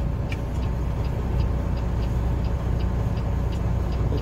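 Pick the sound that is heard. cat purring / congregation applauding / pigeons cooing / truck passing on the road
truck passing on the road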